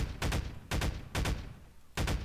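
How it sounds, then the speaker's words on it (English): Machine gun fire in the video game Half-Life 2: four separate loud bursts of rapid automatic shots, each lasting a fraction of a second, with short pauses between them. "Oh, there's my fucking machine gun."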